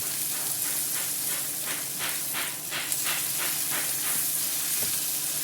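Onions sautéing in melted butter in a pan, giving a steady, close sizzle and crackle that runs without a break through the clip, with no voices.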